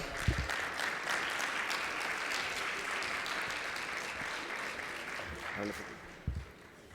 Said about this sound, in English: A big applause for Adam.